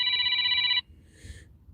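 During a live call-in show, a telephone gives one loud, close electronic ring that stops abruptly, then a fainter, higher ringing tone follows briefly over quiet background.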